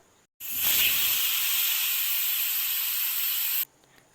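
A pressure cooker cooking chicken for biryani gives off a loud, steady steam whistle that bursts on suddenly and holds for about three seconds before cutting off sharply.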